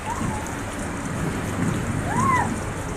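Rain falls steadily in a constant wash of patter while a child plays out in it, with a couple of faint higher squeals or cries rising briefly over the rain.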